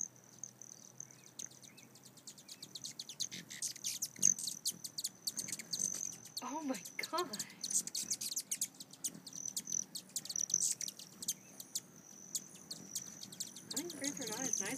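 Hummingbirds squabble with quick, high, thin chirps and twitters, scattered through the clip at moderate distance, with a brief exclamation from a person.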